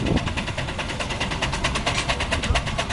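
A compound steam traction engine with two cylinders runs up close in a showground ring, giving a loud continuous chuffing and rumbling beat with a fast, regular pulse and no talk over it.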